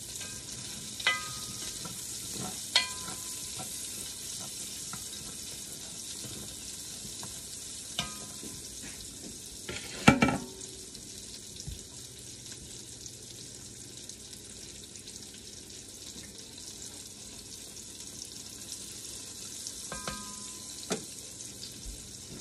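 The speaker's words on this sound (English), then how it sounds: "Now we add the leeks and cook them for a minute." Leeks cooking in a blue enameled cast iron Dutch oven, a steady hiss of sizzling running throughout, broken by a few sharp clacks of utensil against pot, no talk.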